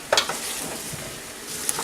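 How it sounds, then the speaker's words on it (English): Potatoes sizzle in a pot with a soft, steady frying hiss, joined by a few brief scraping stir sounds near the start and again toward the end. "our potatoes are sizzling away here"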